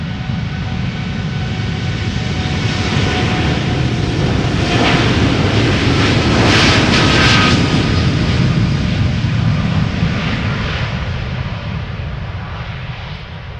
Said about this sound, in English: Now, one Dreamliner we're about to lose is this one. TUI going to Montego Bay.